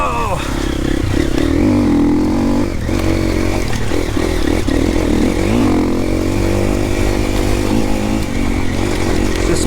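A four-stroke enduro motorcycle rides steadily on a wet, rainy trail, its engine droning loud and close with revs rising and falling throughout, with no pause in the noise.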